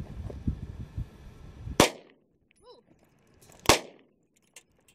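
Two sharp, loud gunshots from a brand new handgun fired outdoors in the desert, spaced about two seconds apart, each with a short decaying tail, after some low background talk and movement.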